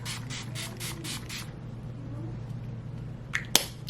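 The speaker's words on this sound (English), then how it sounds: "So I'm going to quickly spray also my Essence Prime Studio Hydra" Several quick spritzes of Essence Prime Studio Hydra primer spray are misted close by in a short burst. After a quiet stretch with a low steady hum, one or two sharp clicks follow.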